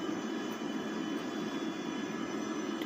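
A large airplane flies in GTA 5, its engines giving a steady, loud, unbroken roar with no talk on top.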